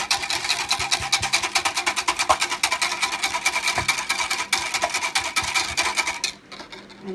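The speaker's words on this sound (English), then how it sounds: "Then I'm going to get my whisk, and I'm going to whisk it." A whisk beats peanut porridge in a pot with fast, even, rhythmic scraping strokes, close and fairly loud, before stopping near the end.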